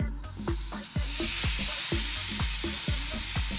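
A T-bone steak sizzles gently in a pan over low heat, a steady soft frying hiss with recurring low thumps from a cooking rhythm underneath, close and continuous with no talking.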